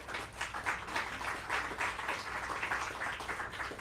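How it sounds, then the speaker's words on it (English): An audience claps steadily at a community event, a dense even wash of applause with no pauses, moderately distant and fairly quiet throughout. "And you're clapping for yourselves"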